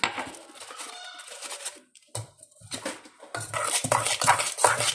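Maida flour batter is mixed in a bowl, with uneven scraping and clinking of a spoon against the bowl in bursts separated by short pauses.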